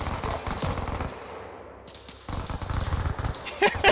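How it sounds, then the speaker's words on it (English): Friendly machine gun fire in the Arma 3 military shooter game, rapid bursts of automatic shots up close, starting and stopping between stretches, with people talking over the gunfire. "And now he's getting shot by his friendly MG."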